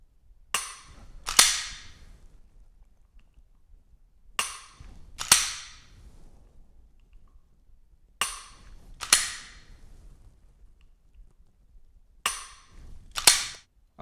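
Dry-fire practice with a Mantis X10 Elite training system: sharp trigger clicks and slide racks in four evenly spaced pairs, crisp and close against near silence.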